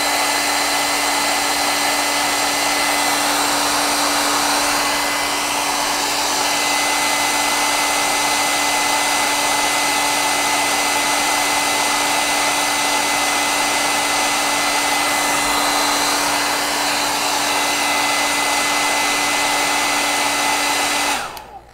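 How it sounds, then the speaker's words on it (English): Blow dryer running continuously to dry paint on a DIY double-sided Halloween craft, a loud steady whirring drone with a fixed hum, cutting off abruptly at the end. "I'm gonna pull out my blow dryer real quick"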